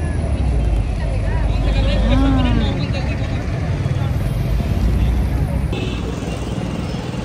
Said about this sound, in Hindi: आई थिंक पीछे ट्रैफिक का साउंड आ रहा होगा